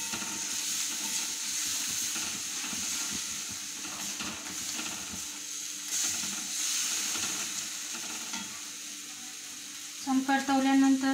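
Crushed chili thecha made with ridge gourd sautés in a pan, giving a steady hiss and sizzle with faint stirring scrapes, moderately close. A brief different clattering sound appears near the end.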